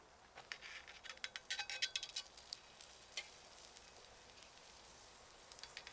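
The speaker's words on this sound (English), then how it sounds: "We cook the shrimp cakes on a slightly oiled griddle." Shrimp cakes frying on a slightly oiled griddle, a quiet, soft sizzle with scattered sharp crackles and pops, busiest early then thinning out, with no voices.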